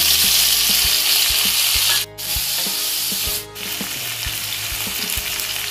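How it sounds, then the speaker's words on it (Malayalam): Chopped tomatoes sauté in a pan for Kerala-style tomato rasam, a loud close sizzling hiss with rhythmic scraping stirs, briefly dipping twice as the heat or pan shifts. "ഇതിലേക്ക് 2 തക്കാളി അരിഞ്ഞത് കൂടി ചേർത്ത് കൊടുക്കാം."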